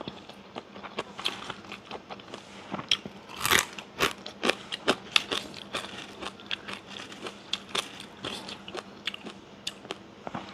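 Close, crisp crunching of small fried fish eaten with tender young papaya leaves and other greens, steady bites and chews in quick irregular succession with no talking.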